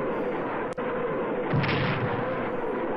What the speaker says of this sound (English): that's the sound of those incredible Katyushas